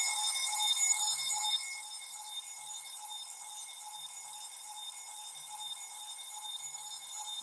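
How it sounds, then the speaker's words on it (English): An alarm clock rings on and on in the morning, a faint, high, shrill repeating tone that persists throughout at a steady level, somewhat distant and quiet. "my alarm is going off this morning"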